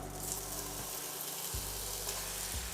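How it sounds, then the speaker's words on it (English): Sausage sizzling in hot olive oil over medium-high heat, a steady loud crackle throughout with soft scraping of the pan, no talking. "We're gonna add our sausage now"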